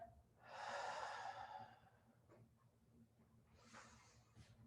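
A person breathing during a mat exercise with a ball: a long, audible close exhale followed by quieter breaths, with no talk.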